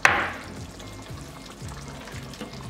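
Ground beef sizzles in a pan, with a loud hiss at the start that eases into steady frying under soft, rhythmic scraping as the meat is stirred.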